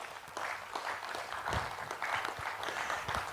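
Audience applause after a magic trick in which a shape is turned into an egg, a steady wash of many hands clapping close by that holds at an even level throughout, with no voices heard.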